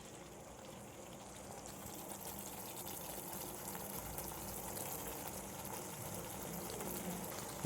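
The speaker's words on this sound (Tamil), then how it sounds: "இப்போது ஒரு கொதி வந்துடுச்சு." Tamarind okra gravy simmering in a pot as it comes to a boil, a steady bubbling hiss with soft gurgles that swells slightly in loudness throughout, no voices.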